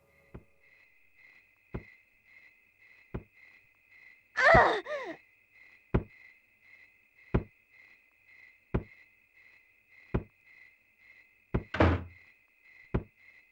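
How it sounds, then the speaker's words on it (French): Children with sacks over their heads beat something with a stick in the video game Rule of Rose, heard as evenly spaced dull thuds about every second and a half, with two louder, rougher impacts or groans breaking the steady rhythm. "Des enfants avec un sac sur la tête battent quelque chose avec un bâton."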